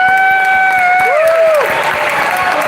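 A crowd claps and cheers loudly and close by, with sustained applause and whooping voices rising in pitch under one another.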